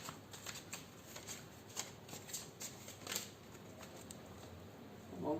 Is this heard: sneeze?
no